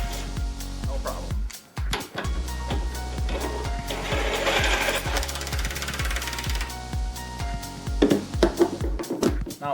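A cordless impact wrench runs in reverse on its low setting, giving a fast, steady hammering rattle up close with short pauses and restarts, while a voice talks briefly over it.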